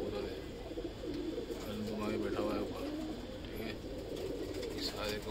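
Male pigeons coo in a pen for sale, soft repeated cooing mixed with faint wing and background noise, while someone talks over it.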